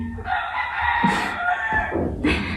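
Roosters crow at a volunteer stay in Peru, two or three long loud calls overlapping close by with some clucking between them.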